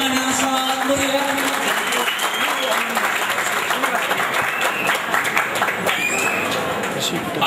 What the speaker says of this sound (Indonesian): Ya, berikan tepuk tangan yang sangat meriah.